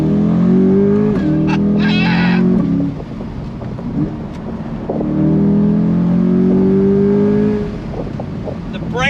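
A 2023 Chevy C8 Corvette accelerating hard on throttle, its engine note climbing in pitch through a gear change, a short dip, then another rising pull, loud and close from inside the car.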